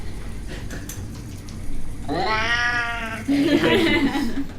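During a tabletop game session, a person's voice imitates an angry cat with a drawn-out, rising yowl followed by a harsher growling snarl, close and loud over a quiet room.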